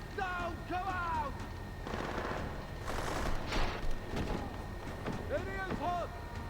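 Gunfire bursts in the video game Deus Ex: Mankind Divided, sharp shots and fusillades crackling amid combat noise, with shouted voices and other game sounds layered over them throughout.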